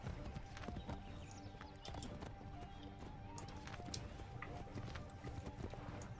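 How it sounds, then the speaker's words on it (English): Horse hooves clip-clop steadily in Assassin's Creed 3 Remastered, a quick rhythmic clatter at moderate distance over a game soundscape, with occasional sharp clicks and no voices. "Dude, the horse."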